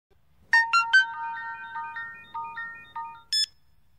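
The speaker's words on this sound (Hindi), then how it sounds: "अब फोन नहीं उठा रहा है। 2 रिंग पर कट कर रहा है" A phone rings unanswered, a clear electronic ringtone repeating in a short burst pattern of several rising tones, then a sharp higher beep as the call cuts off, close and alone with no talking.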